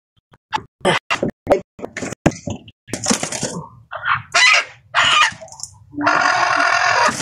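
A series of sharp, rapid clucks from chickens, growing busier, then a rooster crows loudly and at length near the end, with no one talking.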